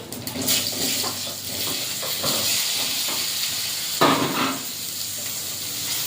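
Boiled potatoes that were fried earlier, dropped into hot oil in a kadai with black cumin seeds, give a steady close sizzle and hiss, with a sharper burst of frying about two thirds of the way through.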